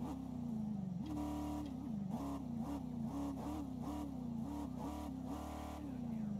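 A vehicle engine in the video game Ghost Recon Breakpoint, its throttle blipped repeatedly so the pitch climbs and falls in short surges over a steady hum, fairly quiet and uninterrupted by talk.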